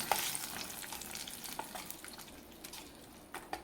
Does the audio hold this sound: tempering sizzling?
yes